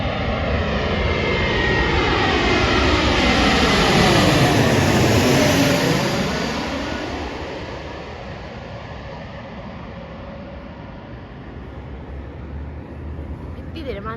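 An airplane passing overhead, its engine roar swelling loud and close, then sweeping downward in pitch as it passes and fading to a steadier distant drone, with people talking nearby.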